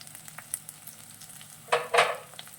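Onions and carrot frying in a pan, a low steady sizzle with two louder bursts of crackling near the end, likely from stirring, and no voices.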